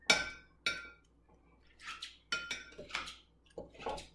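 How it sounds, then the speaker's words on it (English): Salad choppers strike cooking ingredients for Thai coconut curry soup in a series of about eight sharp, close clicks and clacks, spaced irregularly with quiet gaps between them. "I'm going to use my salad choppers. Now it's time to get chopping."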